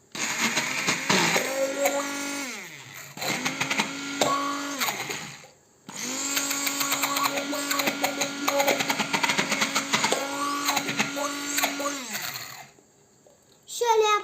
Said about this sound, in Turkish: Şöyle birazcık blenderla çip çip yapacağız